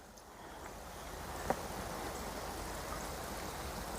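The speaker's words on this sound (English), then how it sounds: "Just spin it around and water and water and water." Water pours steadily into soil-filled planter pockets, a soft continuous splashing hiss with one brief sharp tap midway, fairly quiet and close.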